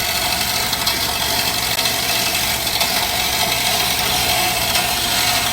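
A FEMI N276DAXL bandsaw with a welded carbide blade cuts special-material pipe, giving a loud continuous grinding whine with a steady motor hum underneath and no pauses.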